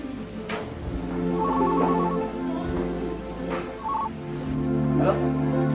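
A telephone rings in repeated short electronic trills, partly buried under people speaking in a room, with a few brief clicks.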